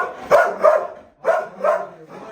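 A Belgian Malinois barks several times in short bursts, fairly close, with brief pauses between the barks.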